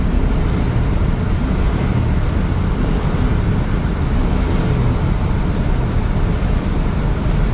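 A 1997 Chevrolet K1500 pickup with a 5.7L Vortec V8 roars at high revs, stuck in third gear and unable to shift into fourth, a steady loud drone with wind and road noise throughout.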